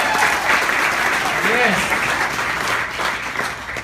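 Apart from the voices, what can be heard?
audience applause for armed forces at a comedy show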